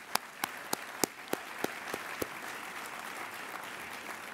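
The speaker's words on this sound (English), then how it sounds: "So if we could give them a round of applause." An audience at a public event applauds quietly, with a run of crisp, evenly spaced individual claps standing out over soft, distant clapping that tapers off.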